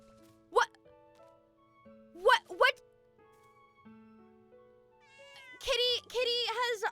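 A cat in the video game Little Witch in the Woods gives several short, high meows in separate bursts, followed by a person talking.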